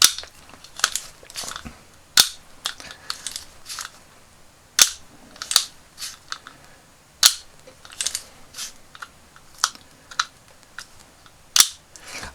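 Sharp pops from a He-Man Thunder Punch toy's cap mechanism fire one at a time at irregular intervals, each a crisp loud crack, with faint clicking and handling noises between shots.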